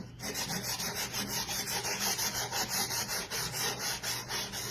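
Wood is hand sanded with light-to-medium grit sandpaper in steady, rapid back-and-forth strokes, a close, even scratching rhythm that runs throughout with no talking.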